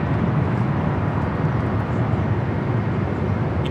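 A United Boeing 787-9 Dreamliner departs runway 25 right at LAX, a steady broadband jet roar with strong low rumble holding constant throughout.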